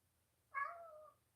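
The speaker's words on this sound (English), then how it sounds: "He's like in this mood where he's purring, meowing right next to me" A single close cat meow, rising then drawn out and fading over about half a second, alone against a quiet room.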